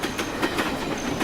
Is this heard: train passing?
yes